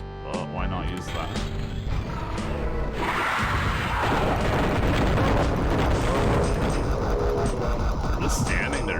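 Loud booms and blasts of grenades going off in a first-person video game, stacked in a dense, continuous barrage that swells after the first few seconds, with a voice talking underneath.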